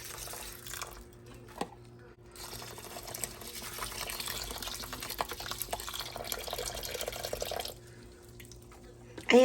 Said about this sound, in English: I'm going to pour in 16 ounces of the chicken broth.